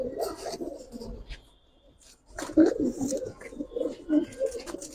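Giribaz pigeons coo in low, throaty repeated phrases close by, rising again after a brief lull, with someone talking over them.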